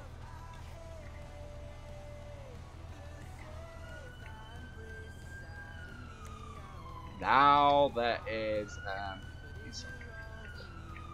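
Rising and falling emergency siren wails from a roleplay video game with police, fire and ambulance tones, sweeping steadily under ongoing talk, with a louder burst of clatter partway through.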